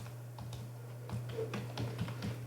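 Fingers tap out code on a computer keyboard in quick, light, irregular clicks, close and fairly soft over a steady low hum.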